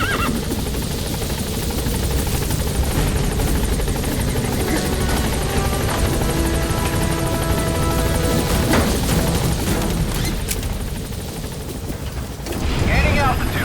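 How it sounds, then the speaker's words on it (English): A support helicopter arrives in Metal Gear Solid V: The Phantom Pain, its loud steady rotor whir and engine drone filling the whole stretch while in-game radio voices speak over it. "Support helicopter has arrived."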